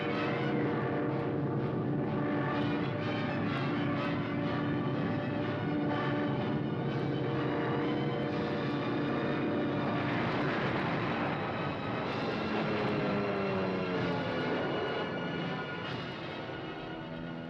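Propeller-driven WWII military aircraft drone steadily overhead above the North African desert, a dense, sustained engine roar with shifting pitch as the planes pass. No voices are heard.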